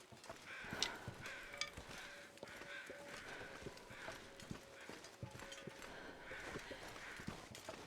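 Crows caw in the wilderness of the video game The Long Dark, several faint harsh calls repeating irregularly over soft crunching footsteps, distant and quiet throughout.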